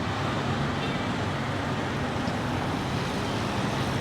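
Busy street traffic in Phnom Penh, Cambodia, makes a steady roar of cars, buses and trucks close by, with faint voices mixed into the continuous noise.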